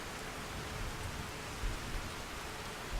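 Steady rainfall in a Zelda video game, a dense even hiss of drops with faint low rumbles, soft and continuous with no voices.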